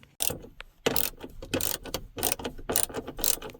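A ratchet with a 7mm long socket loosens nuts holding an overhead DVD monitor in a Dodge Grand Caravan, giving close, irregular bursts of sharp clicking ratchet sweeps with brief pauses between strokes.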